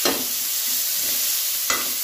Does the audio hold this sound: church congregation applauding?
no